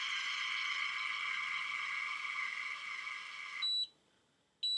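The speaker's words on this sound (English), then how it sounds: "when it beeps twice like that, it's done" An automatic hair curler hums steadily as it runs, then stops and gives two short, clear beeps close by.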